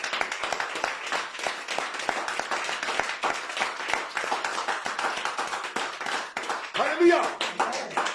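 A church congregation claps and applauds steadily in a worship service, many hands beating together continuously, with a preacher's voice talking over it.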